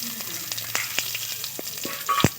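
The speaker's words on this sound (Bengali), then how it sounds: "খুব ভালো করে ফোড়ন করে নেব।" Black mustard seeds, whole cumin and ginger paste temper in hot oil for an aloo paratha filling, crackling and sizzling close by with quick pops over a steady fry.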